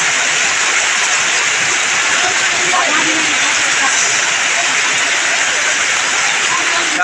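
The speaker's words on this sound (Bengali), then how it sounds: "এই জুড়ে নামছে বৃষ্টি" A steady downpour of heavy rain fills the scene with a loud, continuous hissing rush that never lets up, with a voice faintly present underneath.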